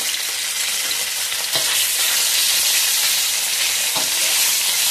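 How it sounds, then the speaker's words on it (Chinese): Pork hitting hot oil in a wok, a loud, steady, close sizzle with a couple of brief stirring knocks, continuous throughout. "锅里加点适量的油， 把这个肉倒下去。"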